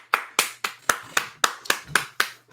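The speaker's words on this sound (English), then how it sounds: "Wonderful clapping" Eight sharp claps in a steady, even rhythm, close and crisp, with no voices.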